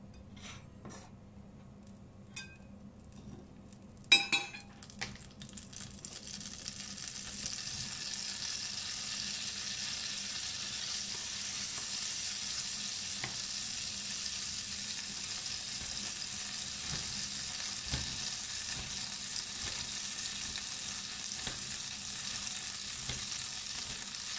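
Butter melting in a pan while pork kidneys in white wine with mushrooms are being prepared: a few light clinks at first, then a steady, close, moderately quiet sizzle that continues to the end.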